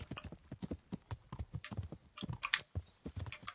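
Horse hooves clop in a rapid, steady rhythm on hard ground in Kingdom Come: Deliverance, close and fairly quiet, with faint clicks and a brief rustle mixed in.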